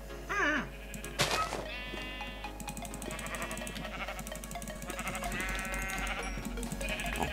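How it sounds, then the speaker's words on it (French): Sheep in the video game Minecraft bleat several times, a couple of clear calls early and more later, over steady in-game background sound. "Là-bas, il y a des moutons."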